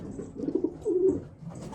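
Racing pigeons coo in a loft, giving a soft, throaty burble with a couple of low rolling phrases close by and no voices.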